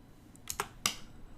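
Typing on a computer keyboard while working in Blender's controls: a few sharp, close keystroke clicks in a short burst, alone over quiet background.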